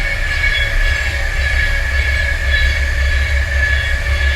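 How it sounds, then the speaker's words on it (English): A train rolls past nearby, giving a loud continuous rumble with a steady metallic whine and rail noise that holds at an even level throughout. "So just wait for the train."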